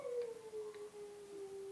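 A child howls in a long, wavering, siren-like tone from another room, muffled and moderately distant, with a slowly falling pitch and no other voices.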